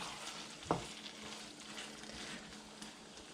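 Pork picadillo frying in a pan sizzles steadily while being stirred, with one sharp scrape or clink early on and a soft, continuous crackle afterward.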